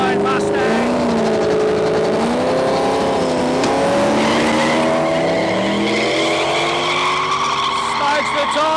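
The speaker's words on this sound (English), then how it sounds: "Just way too much tyre spin there for the 69 Mustang" Drag race cars, a 1969 Mustang against a Supra on a no-prep airstrip, roar loudly with revving engines and squealing tyre spin that shifts in pitch throughout, while a commentator talks over it.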